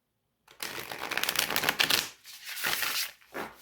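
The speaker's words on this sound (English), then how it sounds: "let me do one more shuffle" Tarot cards from the Lubanko Tarot deck are riffled and shuffled close up, a dense rapid flutter of card edges for about two seconds followed by a few shorter shuffling bursts.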